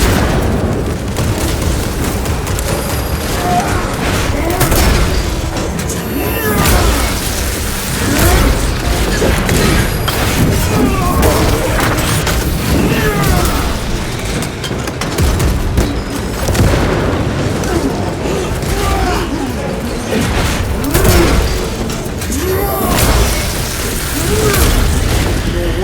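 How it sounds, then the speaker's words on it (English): Frag grenade explosions in Warhammer 40K Space Marine 2, heavy booming blasts layered over a loud, continuous battle din of clanking mechanisms and combat noise. "Frag grenade deployed."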